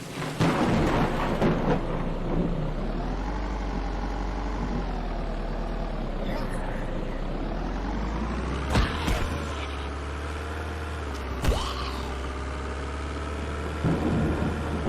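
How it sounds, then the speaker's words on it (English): In the zombie survival game Vein, steady rain roars under a heavy low rumble of rolling thunder, with a few sharp cracks and knocks cutting through, loud and continuous. "see how rainy it is right now"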